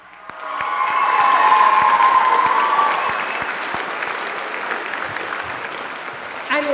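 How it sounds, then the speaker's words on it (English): Audience applause fills a school spring band concert hall, a dense sustained roar of clapping from a large crowd that swells, holds steady for several seconds, then slowly tapers, with a brief bump of sound near the end. "Can you give him a round of applause one more time?"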